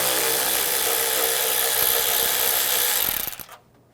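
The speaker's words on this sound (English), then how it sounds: "Take this bolt out right here," A power tool whirs steadily as it backs out a bolt with a 10mm socket on a 2013-2016 Dodge Dart during a front engine mount replacement, then cuts off near the end.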